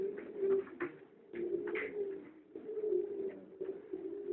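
Pigeons in a loft coo in low, throaty rolls, several birds overlapping close by in repeated swelling phrases with short gaps between them.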